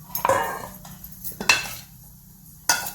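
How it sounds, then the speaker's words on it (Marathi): A lid is lifted off a cooking pan of stuffed capsicum, giving a few brief metallic clinks and knocks spaced over a few seconds against a quiet kitchen background. "आपण याच्यावरच आता हे झाकण काढूया"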